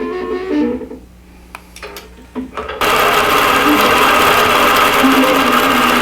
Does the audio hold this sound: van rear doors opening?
no